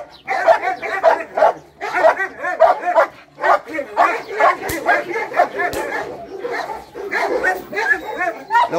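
A training dog barks repeatedly and aggressively while attacking, loud and close, in rapid bursts with short pauses, mixed with someone talking over the commotion.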